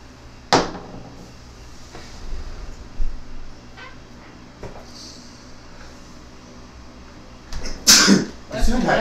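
A single sneeze bursts out near the end amid a live stream with a golden eagle, a short sharp sound after scattered soft knocks and low background noise.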